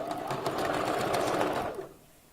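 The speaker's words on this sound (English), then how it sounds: "they're more durable when you're using your sewing machine" A sewing machine runs in one steady, rapid stitching burst close by, sewing a quick back stitch on a wig, then cuts off, leaving near silence.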